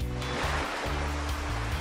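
Sea waves at a beach wash in as a steady, loud broadband roar of surf, continuous over a short stretch, with a low pulsing hum underneath.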